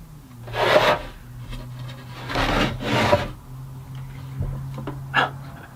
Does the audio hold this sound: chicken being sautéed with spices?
no